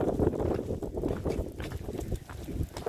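Strong storm wind from an atmospheric river buffets the microphone in heavy, uneven low rumbling gusts, loud and close throughout with no voices.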